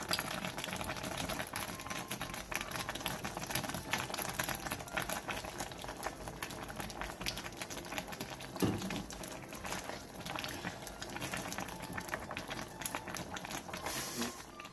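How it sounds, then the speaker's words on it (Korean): Pork bone stew with sweet potato stems and green onion bubbles at a steady boil, a continuous close patter of popping bubbles with no talk over it. "마지막으로 대파를 넣고 5분에서 10분간 더 끓여 마무리해주세요."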